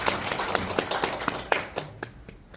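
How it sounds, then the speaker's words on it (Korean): A small audience at a Korean labor-law forum claps in distinct, fairly rhythmic hand claps that thin out and fade toward the end. "박수 부탁드리겠습니다."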